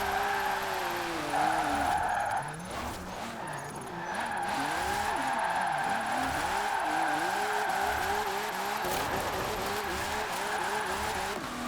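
A Nissan 370Z in Formula Drift trim drifts in Forza Horizon, its engine revving hard with steady tire squeal throughout, the pitch rising and falling with each slide, while a person talks over it.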